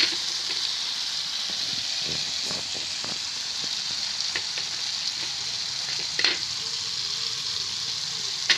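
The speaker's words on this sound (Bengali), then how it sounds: "এগুলোকে খুব ভালো করে আমি মিশিয়ে নেব।" Nut and poppy seed paste being stirred into cauliflower and potato in a hot pan, with steady close sizzling and frying and soft scraping stir sounds throughout.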